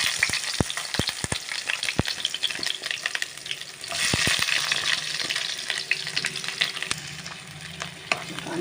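Onions fry in hot oil with a loud, close, continuous sizzle. Sharp spatula knocks and scrapes come early and again midway, and no one speaks.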